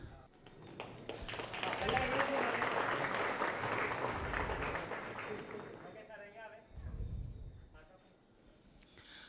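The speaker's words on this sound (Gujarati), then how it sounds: "આપણે તાળીઓથી વધાવીએ" A ceremony audience at a hotel hall gives a sustained burst of clapping that swells and then fades, with some talk and murmuring mixed in toward the end.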